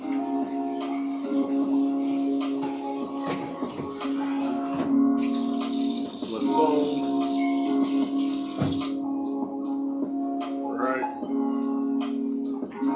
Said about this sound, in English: Rinse our noodles.